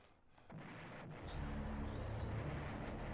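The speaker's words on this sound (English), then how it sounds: "I love these explosion sound effects" A deep, rumbling video game explosion in Eternal Darkness swells up and keeps roaring with a low, sustained boom, loud and close, with faint crackle on top.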